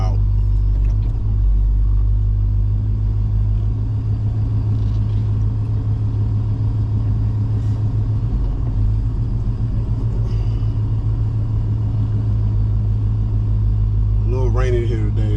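Hot rods and other cars rolling out of Summit Motorsports Park among crowds on a drizzly day, a continuous deep engine rumble nearby with passing vehicles surging and fading throughout.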